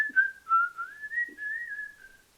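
A person whistles a wavering, bending melody alone, close and clear, in a few connected phrases with short pauses.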